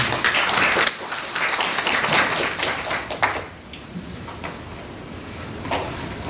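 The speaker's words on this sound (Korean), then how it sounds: "박수로 맞이해 주시기 바랍니다." An audience at a literary translators' conference applauds to welcome a speaker, a burst of many clapping hands that thins out and fades to a few scattered claps after about three seconds.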